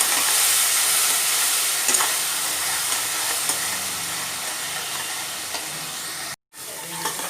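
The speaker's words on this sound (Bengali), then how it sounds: "এবার অল্প একটু জল দিয়ে মশলাটাকে এখন ভালো করে কষিয়ে নেব।" Spice paste sautés in a pan with a splash of water, a dense steady sizzle with stirring scrapes, briefly cutting to silence near the end before resuming.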